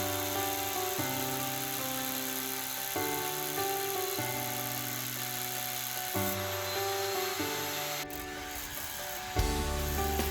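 A power drill bores holes into concrete blocks for a house foundation, a loud continuous whine whose pitch shifts in steps as the bit bites and eases, with no voices.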